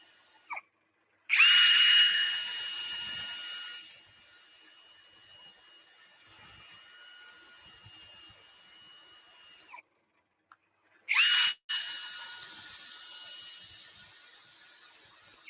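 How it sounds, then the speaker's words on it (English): A power sander works over a wooden yarn bowl in two loud whining bursts, each dropping off to a quieter spin-down, with brief gaps and small knocks between. "Just a little power sand over the top of it"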